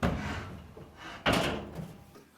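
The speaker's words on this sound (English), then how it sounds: "Remove the wood block and set the dryer back on the ground." A clothes dryer, a Whirlpool, Maytag or Kenmore unit, is lowered off a wood block and set back on the floor, giving a dull thunk followed by a second heavier knock.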